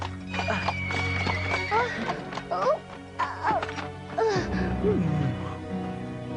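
Cartoon horse clip-clops along pulling a horse-drawn carriage, with neighs and whinnies rising over steady hoofbeats, plus a few thwacks and voices talking over the scene.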